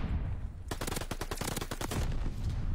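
Rapid bursts of automatic gunfire from a video game shootout, a dense rattling volley of shots lasting over a second, fairly loud against a steady background hum.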